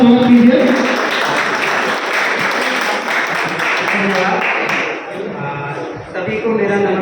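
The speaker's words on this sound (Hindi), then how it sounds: "तालियों से जोरदार स्वागत कीजिए।" A crowd applauds to welcome a doctor to the stage at a community dengue and malaria awareness event, steady clapping under and around talk, with a brief dip before it resumes.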